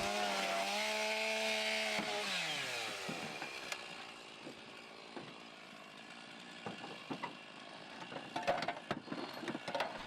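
A firefighter's power saw cuts a rafter louver into a tile roof, its engine pitch starting high and steady, dropping as it bites, then giving way to scattered clanks and knocks of tiles and tools.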